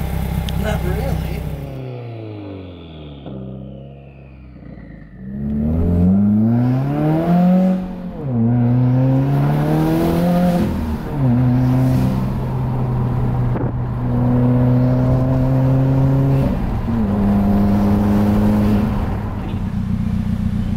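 A car fitted with a new Tomei Expreme aftermarket exhaust revs up repeatedly, engine pitch rising and falling through several loud, close blips with steady idle between them.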